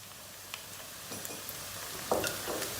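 Green peppers tipped into a pan of softened onions for a pasta dish give a faint, steady frying sizzle with a few light clatters and stirring scrapes, no voices.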